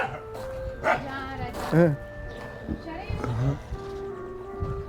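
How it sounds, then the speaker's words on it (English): An old dog at a winery in Nashik's wine country gives a few short barks and whines, close by, mixed in with someone talking over it. "A bit of an old miserable wine dog here"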